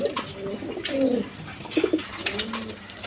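Pair of Indian Bombay pigeons cooing close by, several rounded coos in short bursts, with light background noise and no talk.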